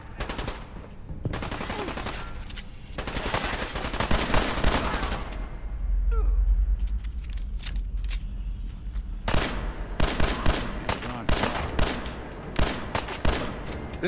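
Pistol fire in Fallout 4 rings out in rapid, repeated sharp cracks through most of the stretch, with denser volleys near the end and a brief lull in the middle, loud and close.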